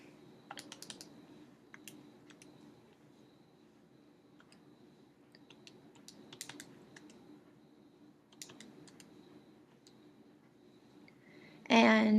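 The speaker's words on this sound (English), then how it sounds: "So we'll type this into our calculator." Faint, scattered taps of numbers being keyed into a calculator, irregular clicks spread across several seconds with quiet gaps and a soft background hum, ending in a sudden louder noise.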